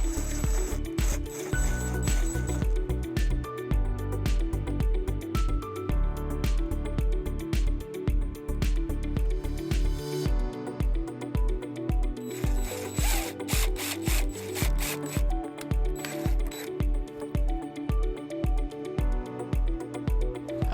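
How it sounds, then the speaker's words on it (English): A power drill bores holes for mounting bracket hardware while fitting a wiring harness on a 2017 Mazda CX-5, whirring and grinding close up in repeated short bursts with clicks and tool handling between them. "We're going to be using a drill to drill both of our holes for our hardware."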